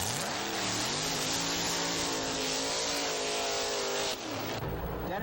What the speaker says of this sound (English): the 86 300 ZX Datsun, the quickest car to date in the Wild Bunch